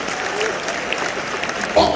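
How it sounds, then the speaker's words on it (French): A church congregation at a French-language sermon with a pastor bursts into steady, dense applause that fills the room. "Acclamons très fort."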